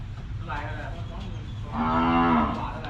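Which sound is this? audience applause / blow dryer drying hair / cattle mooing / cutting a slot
cattle mooing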